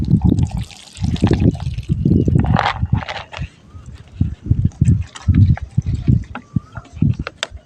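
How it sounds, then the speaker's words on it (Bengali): Water is poured into a container to soak grain for fishing bait, making intermittent close splashes and trickles while someone talks over much of it. "এই যে ভিজিয়ে দিলাম বন্ধুরা দেখতে পাচ্ছি জল দিয়ে"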